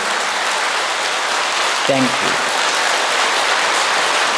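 An audience claps for kidney donors at a World Kidney Day event, a dense, steady roar of applause throughout, with a brief spoken thanks partway through.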